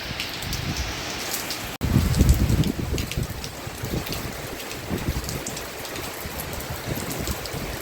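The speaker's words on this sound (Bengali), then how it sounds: "প্রচুর বৃষ্টি হচ্ছে প্রচুর বৃষ্টি" Heavy rain pouring steadily, a dense close hiss of drops striking surfaces that swells louder after a brief break and keeps going, with no voices.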